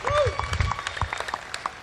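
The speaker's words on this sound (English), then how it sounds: "a big round of applause to the both of them" Applause from residents at a Nawroz Baug community gathering, honouring two people; a short run of scattered claps and crowd noise with some talk mixed in.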